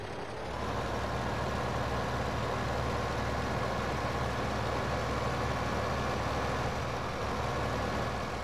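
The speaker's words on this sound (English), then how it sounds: "jump in this tractor, plonk that on the edge of the field" Tractor engine in Farming Simulator 15 running steadily at idle, a constant loud low rumble with no breaks, heard alone without talk.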